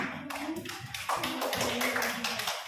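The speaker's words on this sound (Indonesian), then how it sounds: "Tepuk tangan dulu yang kelompok ini" A classroom of students gives a short round of applause for a student group, a quick patter of light hand claps close by, steady for a few seconds.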